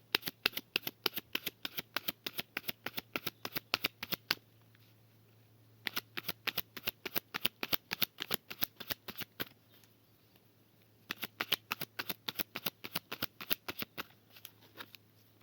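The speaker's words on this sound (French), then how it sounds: "on fait une coupe et 3 cartes avec celui-ci" A deck of tarot cards is cut and shuffled close by, making rapid, rhythmic riffling flutters in three bursts of several seconds each, with short quiet pauses between them.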